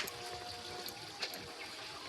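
Pumpkin greens being rinsed in water, a faint continuous trickle and splash with a brief louder slosh near the middle.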